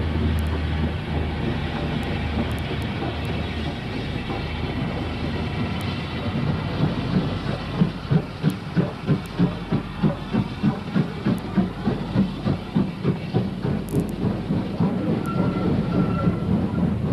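Ex-US Army steam locomotive Big Jim, a 2-8-0 built in Ohio in 1945, works hard on a heritage railway, its rumble building into a steady, loud rhythm of exhaust beats that grow clearer and more regular.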